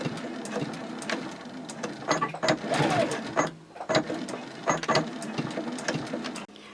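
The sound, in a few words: sewing machine topstitching and backstitching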